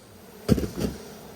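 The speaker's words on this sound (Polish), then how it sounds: "Naprawdę te pszczoły to są wyjątkowo spokojne" Honeybees buzz at an open hive, a short close burst of buzzing as a bee passes near, rising suddenly and trailing off over a quiet background.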